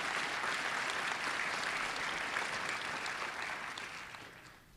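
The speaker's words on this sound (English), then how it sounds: "Give her a round of applause as well." Sustained audience applause for an Olympic champion swimmer at a community event, a dense steady wash of clapping that holds for several seconds and then gradually thins and fades toward the end.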